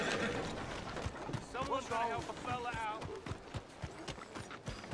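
A horse in a video game, hooves clip-clopping with a rhythmic thud and some creaking, heard under frequent shouting and speech from characters.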